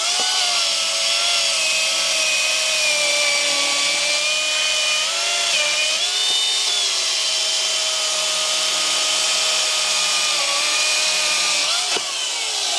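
A new 70cc chainsaw makes one cut through a softwood log, its engine holding a loud, high, sustained whine that dips slightly under load and then recovers, with no talk over it.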